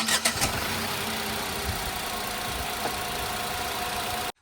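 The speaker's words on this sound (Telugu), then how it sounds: "ఒకసారి మనం ఈ కార్ని స్టార్ట్ చేసి ఈ కార్ ఒక ఇంజన్ నాయిస్ అయితే ఇందాం" A 2024 Tata Punch engine cranks briefly and catches, then settles into a steady, even idle close by before cutting off abruptly.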